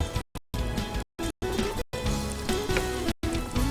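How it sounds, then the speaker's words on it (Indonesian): Crackling, sizzling hiss of cronut dough frying in hot oil, steady and close, with a few short breaks. "Cukup untuk menggoreng ini 2 menit saja sudah cukup"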